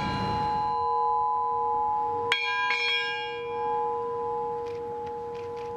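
A large bell at an outdoor Armistice Day centennial ceremony in Belmont, struck once with a sharp clang that rings on and slowly fades, heard over steady background hum.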